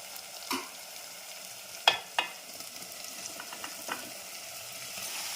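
Tomatoes go into onions frying in a pan for a potato and chana dal curry, giving a low steady sizzle with a few sharp clatters of stirring and pan contact. No one talks.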